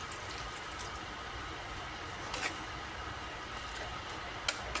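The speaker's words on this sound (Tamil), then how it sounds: "நம்ம ஒரு அரை டம்ளர் தண்ணி ஊற்றுறேன்" Half a tumbler of water is poured into a pan of cooking greens, a faint, steady splashing hiss with a few soft clinks, heard alone.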